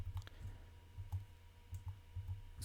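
Keys clicking on a computer keyboard while code is typed for an HTML and CSS sidebar menu, a sparse run of soft, close taps at an uneven pace, with no voices.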